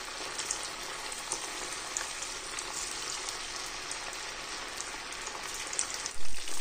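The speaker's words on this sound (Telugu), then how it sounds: "మీడియం ఫ్లేమ్లోనే పెట్టుకొని మనం పన్నీర్ని ఫ్రై చేసుకోవాలండి" Paneer pieces fry in oil over a medium flame for a Telugu-style chilli paneer, giving a steady, dense sizzle like rain on a surface. A couple of soft bumps sound near the end.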